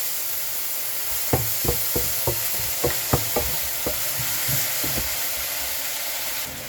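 Soy sauce poured into frying kale and minced pork sets off a steady sizzle, punctuated by a dozen sharp scraping knocks of a spatula stirring the wok, all close and without talk.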